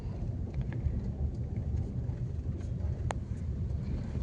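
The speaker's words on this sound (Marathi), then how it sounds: "ट्रॅफिक जेला" Road traffic jam heard as a low, steady rumble of idling and crawling vehicles, with faint scattered higher noises and one short horn-like tone partway through.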